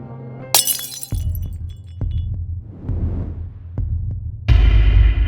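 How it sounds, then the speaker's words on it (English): A vase tips over off a table and shatters in an animated horror story, a sharp burst of breaking ceramic followed by scattered clinks and low rumbling. "Logan shocked seeing one of the vases tip over the table and shatter to pieces."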